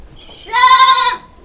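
A single Etawa goat gives one clear, loud, close bleat lasting about half a second, strongly tonal and wavering, against a quiet farm background.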